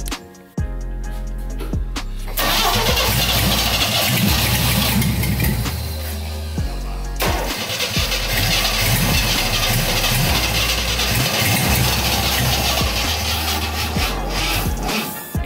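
A 1965 Chevrolet C10 pickup engine cranks on a weak, dying battery, then catches and runs with a loud, rough, steady idle. The engine briefly cuts out and restarts partway through, and no one speaks.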